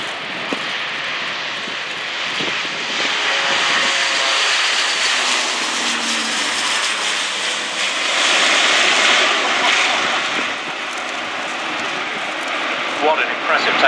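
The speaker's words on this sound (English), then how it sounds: "Rolling now, the Airbus A-400M, known to the Royal Air Force as the Atlas." Airbus A400M Atlas military transport aircraft taking off at the Royal International Air Tattoo air show, a loud sustained turboprop roar rising and swelling throughout, with a commentator talking over it.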